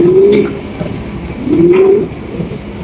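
Mundi pigeons coo close by in two drawn-out, gently rising calls separated by a short pause, clear against a quiet background.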